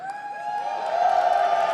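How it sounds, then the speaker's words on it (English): A large crowd at a live Apex Legends esports playoff final cheers and whoops in a steady, dense roar of voices that builds slightly and stays loud throughout. "I'm hanging out in this amazing crowd who's been killing it with their cheering"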